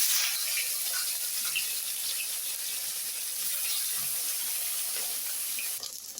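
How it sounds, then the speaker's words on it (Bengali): Pieces of katla fish fry in hot oil with a steady, even hiss of sizzling throughout, close by and with no talking. "এটা আমি এখন গরম তেলে ছাড়ব"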